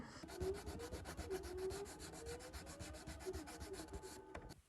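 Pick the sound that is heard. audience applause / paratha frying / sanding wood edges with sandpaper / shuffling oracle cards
sanding wood edges with sandpaper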